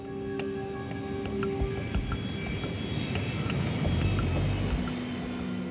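An Embraer Legacy business jet in flight on its way to Manaus in northern Brazil, heard as a steady, unbroken engine and airflow roar throughout, with no talk.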